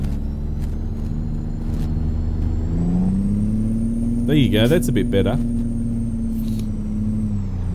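A Kenworth T660 truck engine in American Truck Simulator drones steadily at mid pitch throughout, close and even, while someone talks briefly over it partway through.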